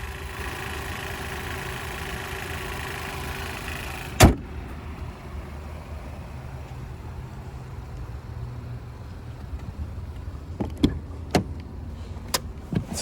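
2021 Chevrolet Malibu RS with the 1.5 engine idling, a steady low hum heard alone, with a sharp thump early on and a few clicks and taps near the end.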